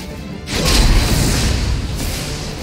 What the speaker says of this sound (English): the explosion already happened